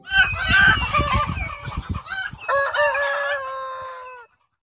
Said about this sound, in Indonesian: Ternyata ini ayam.